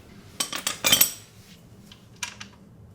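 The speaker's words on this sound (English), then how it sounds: "I've got a wrench on the other side of the bike," Metal wrench clinks against a bolt while loosening it on a 2015 Aprilia Tuono RSV4 motorcycle during an engine removal, with a quick close cluster of sharp metallic taps, then a shorter pair a second later.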